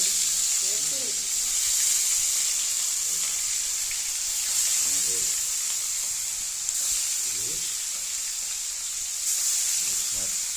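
Steady, close sizzle of frying in a kadai (wok), in a home kitchen cooking hilsa, raw banana and tomato. The bright hiss runs continuously with faint voices murmuring underneath.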